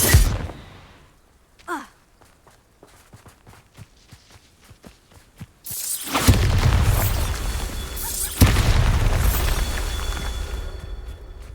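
Bombarda blast spells in Hogwarts Legacy, with scattered footsteps and small pops before a loud booming explosion and rumbling debris that carry on, followed by a second heavy blast partway through.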